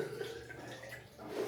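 A small amount of water pours into a portable bidet bottle, a steady splashing trickle heard up close and fairly quiet, with no voices over it.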